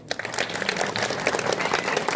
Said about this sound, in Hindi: फिर से धन्यवाद और जोरदार ताली।